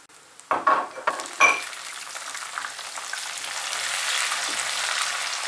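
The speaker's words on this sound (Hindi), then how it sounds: "काजू भी हल्के भुन चुके हैं, तो हम इसमें चिरौंजी डाल देंगे" Almonds, cashews and chironji roast in a pan over a medium flame. A few sharp clicks come first, as if pieces are dropping in, then a steady, close, crackling sizzle runs to the end.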